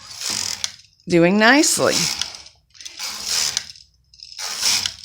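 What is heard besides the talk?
Brother KH 587/588 knitting machine carriage knitting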